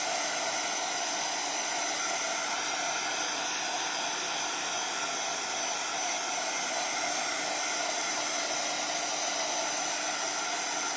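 A heat gun or hair dryer blows without pause to dry torch paste spread on a bamboo cutting board, a loud, close, even whooshing roar with a high whine running through it.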